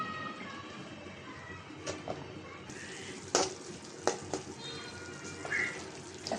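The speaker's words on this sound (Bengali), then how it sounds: "এই পুঁটি মাছ দিয়েও কষাই নেব" Spice paste of turmeric and salt sizzling in oil with small puti fish in a pan, a soft steady fry with a few sharp stirring clinks and spatters, close and fairly quiet.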